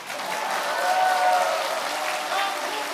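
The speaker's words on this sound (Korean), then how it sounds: "박수 치셔도 됩니다." An audience at a political party rally breaks into applause, clapping that swells and fades over a few seconds, with a voice briefly under it.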